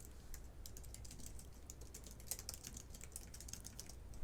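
Code for an iOS collection view app is typed on a computer keyboard: quiet, rapid and continuous key clicks, close and alone.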